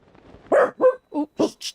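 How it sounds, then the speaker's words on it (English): A dog gives a quick run of about five sharp, close barks in roughly a second, loud and separate, with faint murmuring before them. "You might hear him barking off and on."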